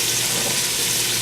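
Diced onions sizzle steadily in a pan of butter and olive oil, a continuous bright crackling hiss that stays close and even throughout, with no talk over it.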